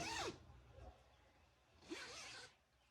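A metal zipper slides along a newly sewn garment with unfinished edges, two smooth quick zips about two seconds apart, close and fairly soft.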